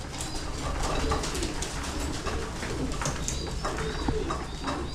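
Hen pigeons cooing in a loft, a steady run of soft, overlapping coos with some chirps over a constant background hum, fairly close and continuous throughout.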